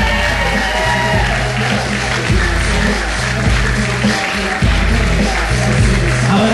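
Wedding guests applaud and cheer as the mother of the groom is escorted in by her son. Steady, loud crowd clapping is mixed with whoops and a few shouts, and a music bed runs under it throughout.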